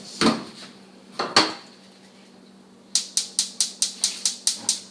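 Pots and pans being handled at the stove in a tiny home kitchen while making pepper jelly: two metallic clunks, then a quick rhythmic run of about eight light clinks, close and fairly quiet.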